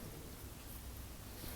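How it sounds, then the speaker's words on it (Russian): Light rain falls outdoors on an overcast, slightly windy early morning, a soft, steady hiss that stays faint and unbroken throughout. "сегодня на улице пасмурный, дождик и немного ветрено"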